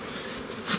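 Honey bees buzz steadily around a reduced multi-storey beehive, a dense continuous hum close by with a slight swell near the end.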